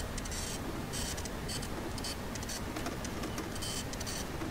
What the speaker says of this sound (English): That a loud ass flat printer.